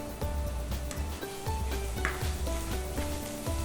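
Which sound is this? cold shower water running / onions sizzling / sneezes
onions sizzling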